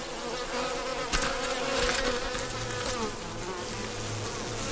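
Dense, steady buzzing of many honeybees close by at the hive, a continuous droning hum that swells slightly midway.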